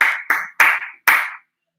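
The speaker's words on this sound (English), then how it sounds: "So big round of applause for them." Brief round of applause for the winning team at a pub quiz, four short bursts of clapping from a small group, close and fairly loud, stopping abruptly into silence.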